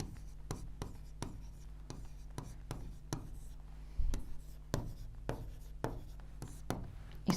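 Marker or chalk strokes scratching on a board while equations are written, a series of close, crisp taps and squeaks at an irregular rhythm over a quiet room.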